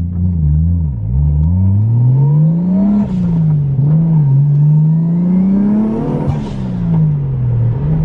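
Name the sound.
1JZ-engined car revving and accelerating on its first drive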